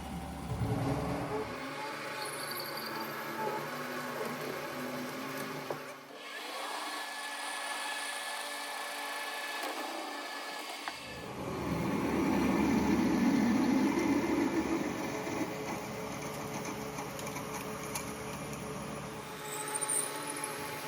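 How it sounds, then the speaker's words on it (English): Lathe running as a drill and then a boring bar work a hole out toward 12 millimeters on a PM 1228VF LB lathe, with a steady machine hum that swells into a louder cutting passage midway and continues. "So I'm going to run a few drills through there to get it a little larger."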